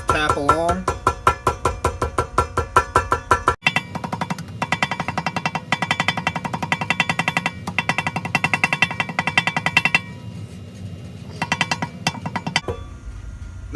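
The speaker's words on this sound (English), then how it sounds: "we're going to tap out the insides" A hammer tapping out the inside of a homemade gasket, giving rapid, evenly spaced sharp metallic taps in long close runs with brief pauses between bursts.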